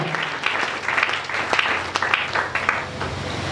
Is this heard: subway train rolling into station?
no